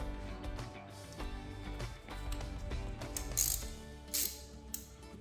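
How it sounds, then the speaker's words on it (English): Rapid clicking of an extension ratchet turning a spark plug on a 2007 Toyota Camry LE 2.4-liter 2AZ-FE engine, a quick series of close, crisp pawl clicks without talk. "got our extension ratchet, slide that down in there very carefully"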